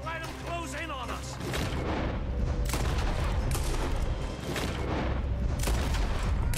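Dense gunfire and booming shots from a Red Dead Redemption 2 shootout in the town of Rhodes, a loud continuous barrage of overlapping blasts with a voice talking over the top.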